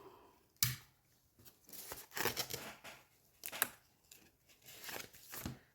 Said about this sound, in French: je mets du scotch tout le tour comme ça